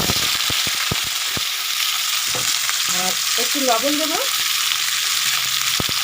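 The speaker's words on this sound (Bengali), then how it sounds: "আর এবারে আমি এটা ভাজার জন্য দিয়ে দিলাম" Flat beans frying in a pan give a steady, fairly loud sizzle, with sharp clicks and knocks from stirring and a voice talking over it in the middle.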